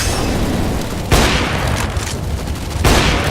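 Grenade explosions in Counter-Strike: Global Offensive, with two heavy booming blasts a couple of seconds apart over constant loud battle noise.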